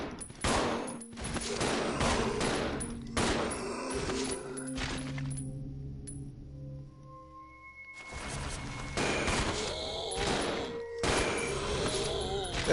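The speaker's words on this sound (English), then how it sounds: "The sound of synchronized gunfight." Gunfire in the video game Resident Evil 0 comes as loud, rapid bursts of shots in two clusters, separated by a quieter stretch with tonal game sounds and a lingering hum, close and punchy.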